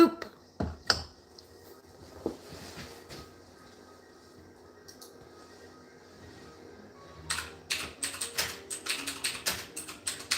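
Fast typing on a computer keyboard: scattered key clicks at first, then a quiet pause, then a rapid run of crisp clicks near the end, faint and close.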